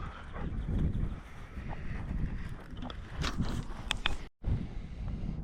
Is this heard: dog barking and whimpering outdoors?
yes